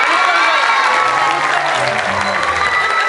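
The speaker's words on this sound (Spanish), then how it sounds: "Fuerte el aplauso, bien merecido." Audience applause and cheering fill a pageant hall at the San Julián, Jalisco 2013 contest, a loud, steady crowd roar of clapping with shouts and high children's voices over it, continuous throughout.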